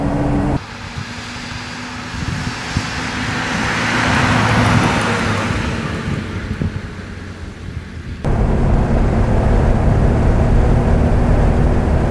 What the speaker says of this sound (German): Fährt wie ein Vorkriegsauto fahren muss